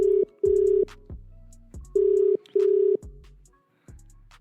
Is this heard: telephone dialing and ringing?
yes